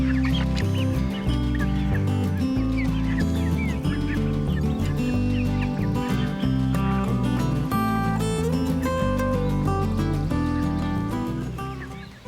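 Busy barnyard chatter of clucking chickens, many overlapping calls at once, loud and close, continuous throughout before easing slightly at the end.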